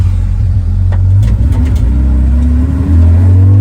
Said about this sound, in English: There's a little Boxster track set up coming in for tech